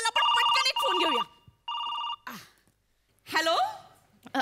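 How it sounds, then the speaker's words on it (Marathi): A telephone rings with an incoming call during a Marathi comedy sketch show: two loud electronic ring bursts, the first one longer, each followed by a voice reacting with gasps and exclamations. "लगेचच प्रेक्षकांचा फोन आला"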